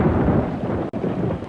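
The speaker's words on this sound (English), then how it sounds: "the Junglies listened to the storm." A loud, steady thunderstorm roar with heavy rain and rumbling thunder fills the clip, broken only by one very brief dropout near the middle.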